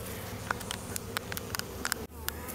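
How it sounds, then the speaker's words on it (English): Honey bees buzzing on frames pulled from a backyard hive during a December inspection: a steady, close, low hum with scattered brief higher-pitched buzzes and small clicks, no talking. "there's quite a few bees on these frames right here"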